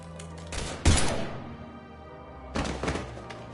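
Gunfire in the video game Mass Effect 3, heard as two loud close bursts of rapid shots and heavy thuds with a quieter gap between them.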